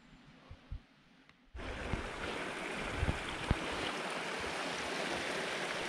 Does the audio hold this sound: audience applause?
no